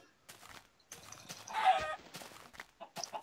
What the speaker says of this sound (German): Hier sind nur Hühner.